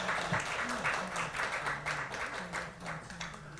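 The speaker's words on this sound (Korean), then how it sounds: "큰 박수 부탁드립니다." An audience applauds at a disability-rights forum session, steady clapping in a large hall with a speaker's voice running over it.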